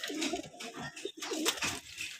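Pigeons at a loft, a mix of green-necked and black-necked birds, give soft, rolling coos in a few repeated bursts, close by and fairly loud, with no talking.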